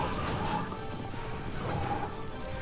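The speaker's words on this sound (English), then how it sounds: "Break down the door." A door is smashed down in the video game Guild Wars 2, a loud sustained crash and clatter of breaking wood and impacts that spans the moment, with no talk over it.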